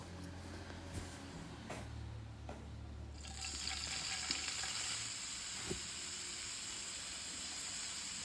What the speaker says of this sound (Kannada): ಪ್ಯಾನ್ಗೆ ಎಣ್ಣೆ ಹಾಕಿ ಪುದೀನ, ಕೊತ್ತಂಬರಿ, ಹಸಿಮೆಣಸಿನ್ಕಾಯನ್ನು ಎಣ್ಣೆಯಲ್ಲಿ ಫ್ರೈ ಮಾಡ್ಕೊಂಡು